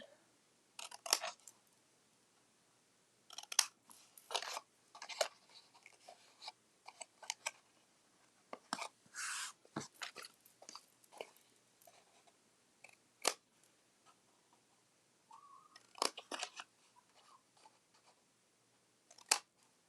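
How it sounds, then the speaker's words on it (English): Scissors make angled cuts in paper for a pen gift box, sharp crisp snips arriving in irregular clusters with quiet gaps between them, very close and fairly soft. "I'm just going to angle cut these to make it a little bit easier to fold."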